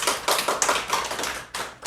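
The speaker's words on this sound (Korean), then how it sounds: "이거 박수 치셔도 좋아요" A Won Buddhist congregation at a regular dharma service at Munjeong temple breaks into applause, a close, steady patter of many hands clapping for under two seconds with no talking.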